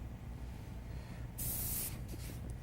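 An airbrush sprays paint lightly over small white areas of an animal artwork, a sharp high hiss bursting in for about half a second, then fading into short softer puffs over a low background hum.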